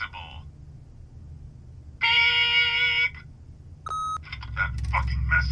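An answering machine in The Wolf Among Us gives a short, loud, steady electronic tone lasting about a second. Quieter chirps and electronic blips follow over a low hum.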